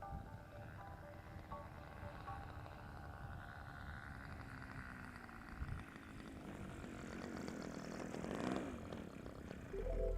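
A giant RC Piper Cub model airplane's engine drones steadily and faintly as the plane comes in to land, the propeller hum rising slightly in the last few seconds before a thump.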